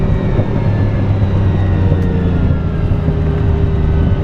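A 1972 Ferrari 246 GT Dino cruising along a bumpy backcountry road in Victoria, its engine a steady, loud drone with road rumble underneath, continuous and even throughout without any talk.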